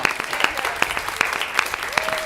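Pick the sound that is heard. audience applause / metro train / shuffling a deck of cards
audience applause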